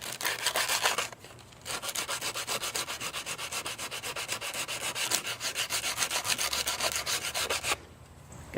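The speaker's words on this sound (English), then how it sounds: "try sanding down these boards to thin them out just a little bit" Rhythmic back-and-forth rasping of heavy-duty sandpaper on wooden pallet boards, strokes repeating steadily and close, pausing briefly near the start and end.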